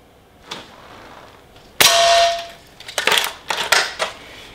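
A Walther Reign bullpup PCP air rifle in 6.35 mm fires once with a sharp crack and ringing metallic tail, followed by several clacking mechanical clicks of the lever cycling.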